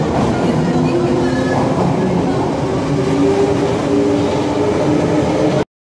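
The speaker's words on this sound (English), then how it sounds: "In a 1973 train going now." A 1973 London Underground train rolls along in a loud, steady rumble with faint wheel clatter and whining tones, then cuts off abruptly near the end.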